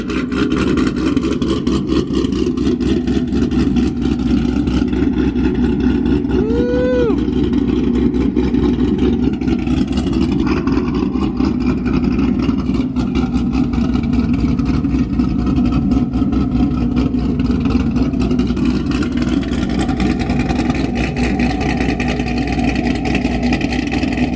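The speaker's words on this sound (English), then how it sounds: "Cold start." A Chevrolet Corvette engine idles after a cold start, a loud, steady low rumble that holds evenly throughout with no voices.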